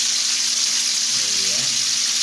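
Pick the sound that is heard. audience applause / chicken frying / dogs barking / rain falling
chicken frying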